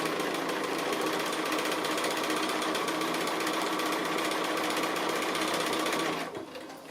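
A sewing machine runs steadily through free-motion echo quilting on a Hawaiian-style quilt, its fast even needle chatter loud and close and continuing unbroken for about six seconds before cutting off near the end.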